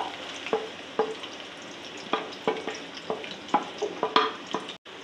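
Onions fry in oil for haleem with a soft, airy hiss, overlaid by a series of sharp utensil clicks and scrapes in an irregular rhythm, close by, with no talking.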